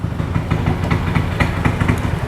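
A freshly started NMAX scooter engine idles close by with a steady, throbbing putter, loud and continuous with no talking.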